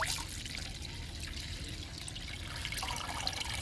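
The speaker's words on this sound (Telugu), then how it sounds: "వడపోస్తున్నా." Homemade liquid plant fertilizer trickles and drips steadily as it is strained, a continuous soft wet splashing at close range with no talking.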